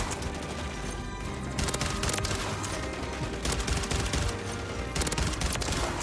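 Rival 9 burst rifle in Modern Warfare 3: loud, close gunfire in rapid repeated bursts, sustained across the whole span with brief gaps between volleys.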